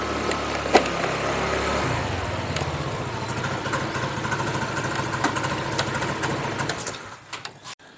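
Car engine idling while parking outside a restaurant in Dumaguete, Philippines, a steady low rumble with small knocks, fading out at the end, with no talk over it.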